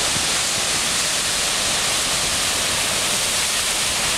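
Assiniboine River floodwater roars steadily through the Portage Diversion toward Lake Manitoba, a loud, dense, continuous rush of heavy flow without pause.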